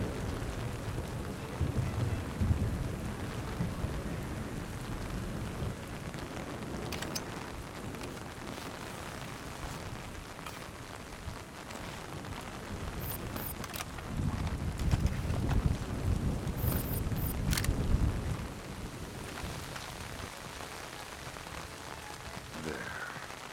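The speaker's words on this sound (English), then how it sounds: "Man, it's really raining." Heavy rain falls in the video game Splinter Cell Chaos Theory as a constant hissing wash with gusty low swells, swelling louder midway and then easing back, with no one talking.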